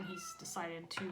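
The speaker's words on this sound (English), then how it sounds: "sorry about the cat meowing" A cat meows a couple of times close by, its cries overlapping with a man's speech.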